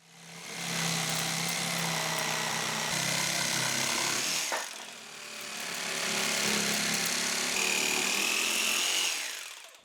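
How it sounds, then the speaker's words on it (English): A jigsaw cuts curves into a wooden top for a metal cabinet, giving a steady, close, buzzing whine that stops briefly midway and then resumes for several seconds. "The next day I went and got my jigsaw, and then I marked out the curves and cut them to shape."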